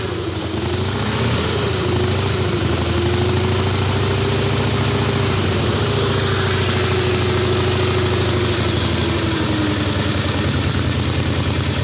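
The engine of a 1912 vehicle with its original muffler idles steadily nearby, a loud, even low rumble with a constant throb that holds unbroken for the whole stretch, with no voices over it.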